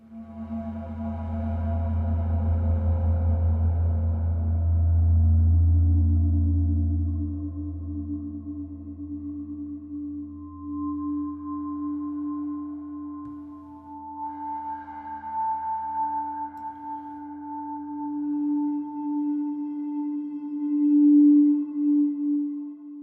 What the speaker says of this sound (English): it will have an effect of essentially turning this into a series of sine waves